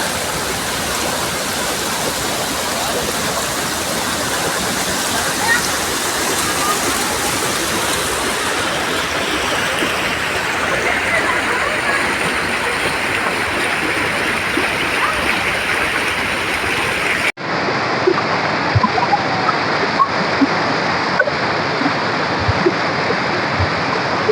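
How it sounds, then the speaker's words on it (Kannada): Steady, loud rush of water from a waterfall or fast stream, continuous throughout, with a brief shift in tone partway through. "ನೀರು ತುಂಬ ರಭಸವಿದೆ."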